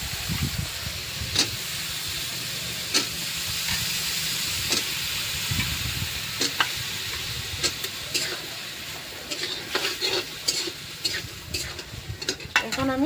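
Eggplant pieces frying in a pan with turmeric and salt give a steady soft sizzle and hiss, broken by sharp scraping stirs and clinks of a utensil against the pan, close up and fairly quiet.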